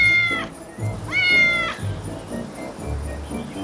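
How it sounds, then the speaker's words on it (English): A cat meows twice in close succession, two clear, rising-and-falling cries that stand out loudly over a low background hum. "And there's a cat. It's meowing."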